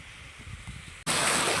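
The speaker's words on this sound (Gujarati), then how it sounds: "તમે ખાલી વરસાદ ને પવન જોઈ લ્યો કેવો હે" Rain driven by strong wind shakes a large banyan tree; a quiet stretch gives way to a sudden loud, constant roar of wind buffeting the microphone for the rest of the clip.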